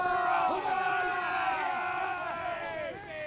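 Many soldiers' voices cheer together in the Roblox Waterloo game, a loud overlapping chorus of yells and hurrahs with rising and falling pitches, sustained for a few seconds.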